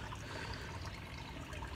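Water trickling and splashing steadily through a 1971 Johnson 6 hp outboard motor during a flow test, a continuous close, moderately quiet liquid wash with no engine roar standing out.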